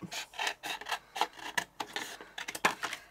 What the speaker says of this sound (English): And then we're just going to trim around it.